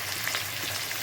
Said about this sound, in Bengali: লবণ হলুদ দিয়ে ভালো করে এটাকে ভেজে নিতে হবে।